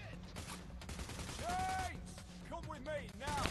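Gunfire in a video game heist shootout, with scattered shots and clatter over a constant low rumble, broken by whooshing effects and ending on a sharp loud burst.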